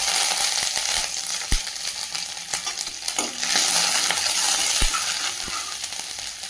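Mustard and other tempering spices spluttering in hot oil for lemon rice, a dense crackling sizzle with sharp pops scattered throughout, close by and without talk.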